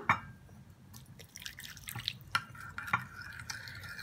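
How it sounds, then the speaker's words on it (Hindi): Boiling hot water poured over grated soap in a bowl for homemade liquid hand wash, light splashes and drips with soft clinks, close and fairly quiet, no voices. "इसमें मैं डालूंगी गर्म पानी"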